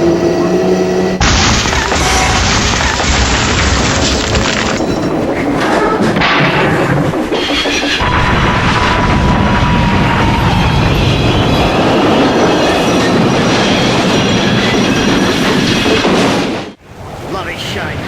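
A train rolling on rails in a WW2-era video game, a loud continuous rumble with rattling carriage noise and sharp bursts near the start, ending in an abrupt cut.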